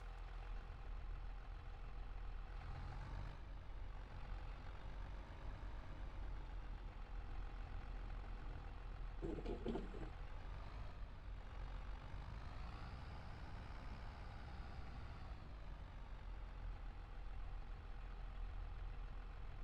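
A tractor engine idles indoors with a low steady drone, continuous and fairly quiet, with a brief clatter midway and slight swells in pitch.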